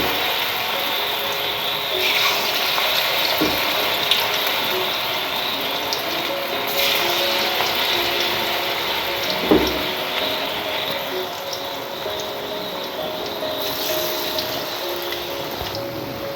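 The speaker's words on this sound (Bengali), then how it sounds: "তেল আমাদের গরম হয়ে গেছে। এবার আমরা পকোড়াগুলো এক এক করে ছেড়ে নেব।" Battered pakoras frying in hot white oil in a kadai, a dense, steady crackling sizzle heard close up for the whole stretch, with a few faint clinks.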